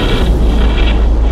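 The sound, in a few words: explosions in the video game Battlefleet Gothic Armada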